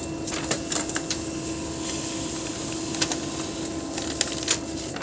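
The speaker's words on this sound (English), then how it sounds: "And it will print it." An HP LaserJet 1008 laser printer runs with a steady mechanical whir and hum, with faint clicks and ticks scattered through it at close range.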